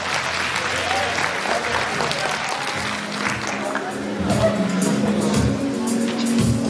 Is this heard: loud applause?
yes